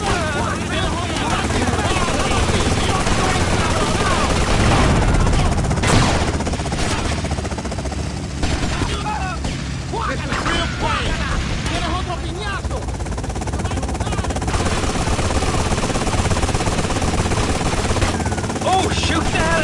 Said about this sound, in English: Oh my God, they've got a helicopter!